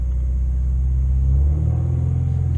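A 2015 Subaru WRX with an aftermarket axle-back exhaust idles high around 2,000 rpm on a cold start, giving a loud, steady low rumble that swells briefly midway, with no talking.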